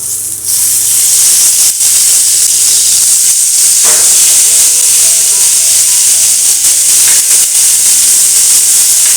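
Raw banana slices set on an oiled dosa tawa give a loud, steady hiss and sizzle, close and continuous from start to end.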